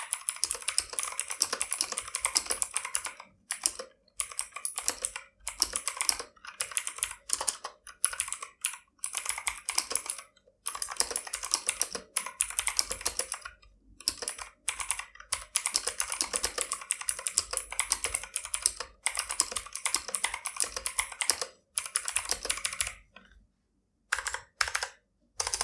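Typing on a Motospeed CK61 60% mechanical keyboard, a long run of dense, rapid key clicks in bursts with short pauses, close and clear with no talking.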